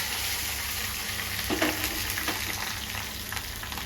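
Garlic and dried chillies fry in hot oil for gongura gravy, giving a loud, continuous close-up sizzle broken by a few sharp pops and stirring scrapes, with no voices.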